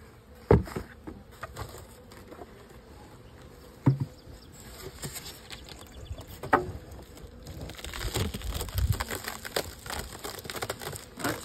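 Honey bees buzzing around hive frames while a small spring cluster is handled for boosting, a steady close hum with scattered taps and crinkling knocks, busier and louder toward the end.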